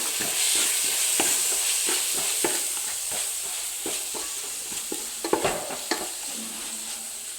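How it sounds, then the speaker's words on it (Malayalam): Turmeric and chili powder being stirred in a frying pan for a chicken gravy, a soft steady sizzle broken by repeated scraping strokes of a spoon against the pan, close and without talk. "അര ടീസ്പൂൺ മഞ്ഞൾപ്പൊടി ഒരു ടീസ്പൂൺ മുളക് പൊടി നന്നായിട്ട് ഇളക്കുക"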